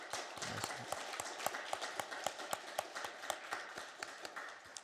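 A church congregation claps during a retirement thanksgiving service for elders and deaconesses, giving fairly quiet, steady applause with distinct individual claps in a loose rhythm over about five seconds.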